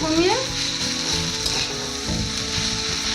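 Chicken sizzles steadily in a pan over a lowered gas flame, with a dense continuous frying hiss and faint clinks of a utensil stirring throughout.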